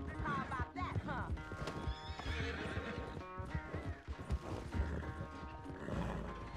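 Horse galloping and neighing in the Red Dead Redemption 2 video game, with rapid clip-clop hoofbeats and whinnies over game sounds while a person talks.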